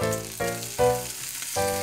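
Slices of ham from a Gifu maker fry in a pan, giving a close, continuous sizzle that drops out briefly at a few abrupt cuts.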